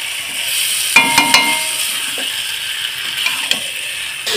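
Chicken sautéing in a pan over a low gas flame, a steady soft sizzle broken by a few sharp clinks and scrapes of a spatula.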